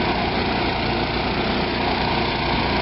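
A generator runs at an RV campsite, giving a steady, loud engine drone with an even, unbroken hum throughout.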